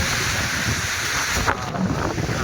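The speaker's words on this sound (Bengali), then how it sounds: "ঠান্ডা হাওয়া।" Cool wind gusts in a steady roar across the microphone outdoors during a stormy spell, buffeting continuously with a brief surge midway and no voices present.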